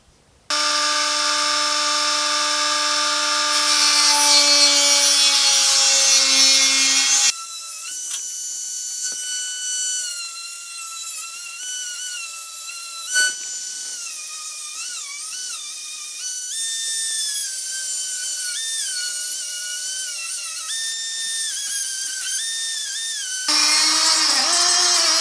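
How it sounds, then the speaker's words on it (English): A power tool cuts an inner door patch panel on a 1950 Chevy truck, giving a loud, steady high whine whose pitch shifts and wavers as the cut goes on, with a few abrupt changes in tone and no talking. "we're going to be cutting on this side of my scribe, leaving plenty"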